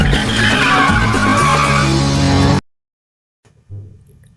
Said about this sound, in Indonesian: Lalu terjadilah kejar-kejaran mobil seperti di film Fast and Furious, tapi versi tahun 60-an.